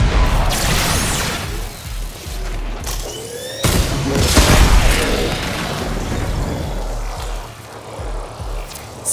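Explosions and crashing impacts as coolant cells are blown up in the Warframe game, heavy booms standing out over a mechanical background rumble, with no talk.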